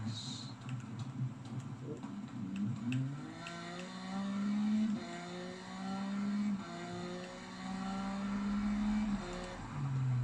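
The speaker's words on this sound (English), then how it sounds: "the sound of the bike is absolutely spot" A motorcycle engine in the Nintendo Switch racing game Isle of Man TT: Ride on the Edge revs up and down through gears at a steady loud level, pitch climbing and dropping repeatedly as if racing along.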